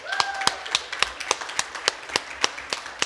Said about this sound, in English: If I can have one more round of applause for our lovely readers.